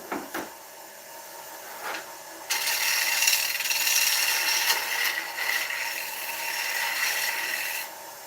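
A MIDI wood lathe turning a rimmed oak bowl, a few scraping and knocking touches at first, then a sustained bright hiss of the tool cutting the spinning oak for several seconds before it cuts off.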